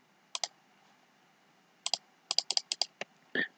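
Fingers typing on a computer keyboard into a text box, quick clusters of light plastic key clicks with short pauses between, close and fairly quiet, no talking.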